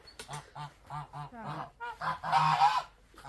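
Drakes in a farmyard give a rapid series of loud, close, honking quacks in short bursts, with a raspier, denser stretch near the end and no talking.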